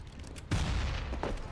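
Gunfire bursts in a Counter-Strike match on de_overpass, a sharp blast followed by a dense rumbling echo and a second quieter burst, fairly loud with no talking.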